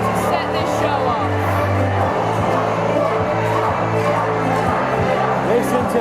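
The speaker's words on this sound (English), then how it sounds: "Listen to the crowd going berserk for Joe Sedgwick." A crowd at a live wrestling show roars and cheers wildly for a winner, a dense continuous wall of noise with chanting tones and announcer talk underneath.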